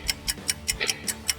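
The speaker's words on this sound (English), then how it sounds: "Screech, do you hear that noise? What is that? It sounds like a ticking." Many clocks tick together in a room, making an even, steady run of crisp clicks about five per second, close and clear with no talking.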